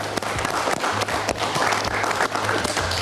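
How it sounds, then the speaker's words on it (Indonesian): Studio audience at an Indonesian political talk show gives sustained applause, a thick, even roar of clapping hands with a faint low hum beneath it throughout. "Oke, kita berikan tepuk tangan dulu."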